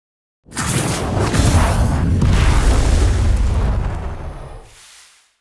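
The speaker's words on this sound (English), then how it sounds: "For the fire spell design, I ended up combining the projectile first, and then a stun, and an impact." A fire spell effect from the Sorcery Strike game: a fiery projectile, stun and impact layered into one sustained, loud booming burst with rumbling low end and a whooshing roar that holds for about four seconds before fading quickly.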